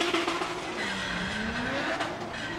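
A 2.5-litre turbocharged BMW drift car engine making 575 horsepower howls at full throttle during a British Drift Championship qualifying run, its steady rising note blended with tyre squeal and track noise.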